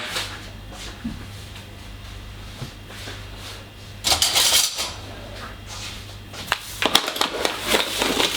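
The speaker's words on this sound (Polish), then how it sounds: "bierzemy jajko naturalne, wrzucamy jajko" An egg is cracked and dropped into a quick cheesecake batter in a bowl, heard as a few light taps and clinks against the dish, with splashy rustles over a steady low hum.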